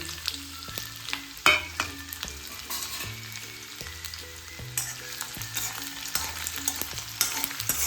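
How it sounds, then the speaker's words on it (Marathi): Garlic, ginger and chili sizzle steadily in a pan for a Marathi prawn bhujane, with a spoon stirring and scraping through them while soft background music plays underneath. "हे जरा ढवळायचं"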